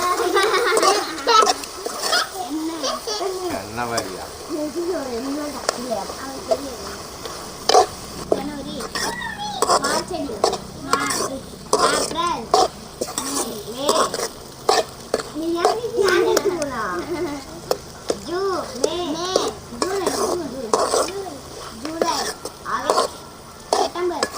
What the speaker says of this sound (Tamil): நல்லா தக்காளி பழம் பச்சை வாசம் போகணும்னு நல்லா வதக்கணும்.